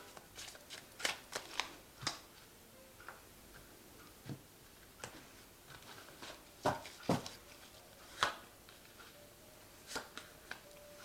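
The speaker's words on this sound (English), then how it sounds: "So I have shuffled this deck." A tarot card deck is being shuffled, giving a run of sharp, scattered card snaps and riffles at uneven intervals against a quiet background, close to the listener, with no talking.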